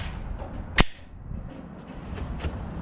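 A single sharp pistol shot from a Smith & Wesson M&P9 M2.0 compact 9mm, fired outdoors at a steel target about 100 yards away: one loud crack with a short decaying echo, then quiet ambience.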